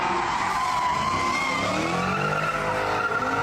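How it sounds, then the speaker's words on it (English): Car tires screeching in a long continuous squeal on a street at night, loud and steady throughout with a rising and falling whine, no voices. "There was just a lot of tire screeching."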